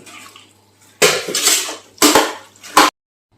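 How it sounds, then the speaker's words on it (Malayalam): Water is poured into a cooking pot of koottam choru, the Kerala rice, lentil and vegetable dish, in three loud, close splashing bursts separated by short pauses, with no talking. "ആവശ്യത്തിന് വെള്ളം ഒഴിച്ച് വേവിക്കാം"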